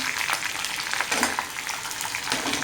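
Urad dal, chana dal, cumin and curry leaves frying in hot oil, giving a loud, dense crackling sizzle throughout with a few stirring scrapes.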